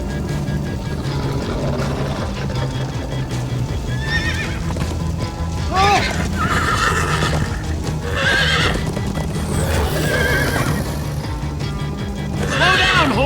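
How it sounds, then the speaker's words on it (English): A horse in the Minecraft Story Mode video game gallops with a steady clip-clop, letting out several loud whinnies and neighs over continuous background rumble. "Slow down, horse!"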